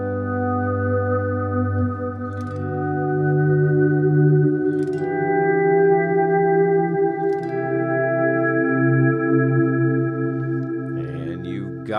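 Electric guitar volume swells through a reverb effect, sustained chords fading in smoothly and washing into long reverberant tails, with a few faint pick or string clicks between them and no voice.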